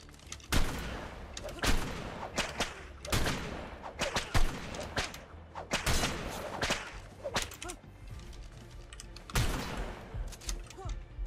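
Shotgun blasts in the video game ARK, a series of sharp, loud booming shots at irregular intervals, several close together, with quieter rustling and movement between them.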